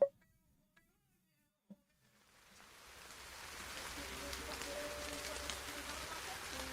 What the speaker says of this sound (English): despite the pattering sound of the rain against the tattered roof